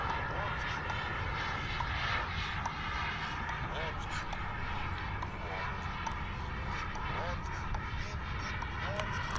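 A remote control airplane engine drones steadily in flight throughout, a continuous buzzing hum with a person talking over it.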